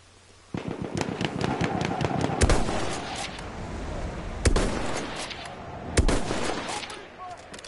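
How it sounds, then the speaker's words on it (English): Rapid gunfire in Battlefield 1 crackles in bursts, sharp single shots and volleys popping near and far over a steady background din. "I can't tell where the gunfire is coming from."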